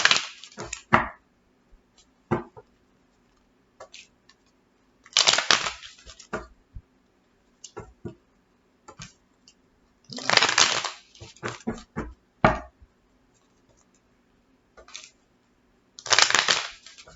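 Tarot cards are shuffled in repeated short riffling bursts separated by quiet pauses, close and crisp, with no talking.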